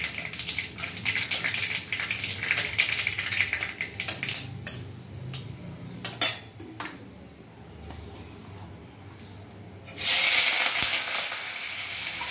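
Black mustard seeds and dried red chilies crackling in hot oil, irregular popping and sizzling that thins out midway, then a sudden louder burst of frying near the end.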